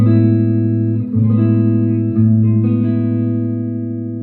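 A jazz guitar major 9 chord rings out, strummed again twice or three times. Each re-strike sustains and gently fades with no voice over it.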